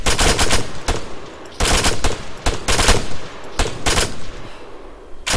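Loud, close machine-gun fire in the video game ArmA 3, in several long rapid bursts separated by brief pauses.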